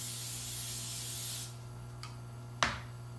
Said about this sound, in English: I'm going to go ahead and do a little bit of coconut spray on there.